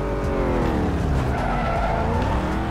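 A Corvette in the racing game Need for Speed Most Wanted skids with a continuous loud tire squeal over a roaring engine that shifts pitch as the car slides across a wide track.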